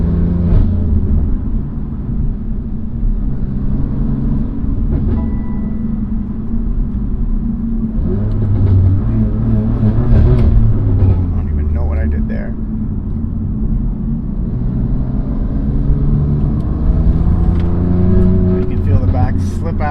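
A BMW M2 Competition engine rumbles and revs under acceleration while being driven, heard from inside the cabin in binaural sound, the deep drone rising and falling beneath someone talking throughout.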